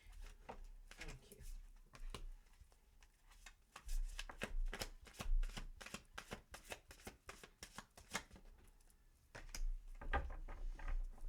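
Tarot deck shuffled in quick bursts, dense flicking and riffling of cards with sharp card snaps, fairly close, with low thumps as the deck is handled; no talking.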